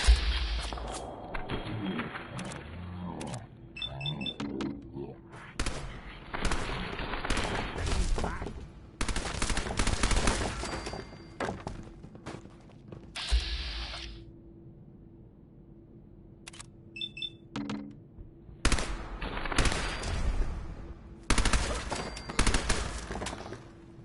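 Bursts of gunfire in Fallout 4, sharp repeated shots clustered in volleys with short quiet gaps between, loud and close throughout.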